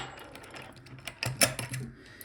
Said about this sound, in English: So with this type of pick I cannot open this.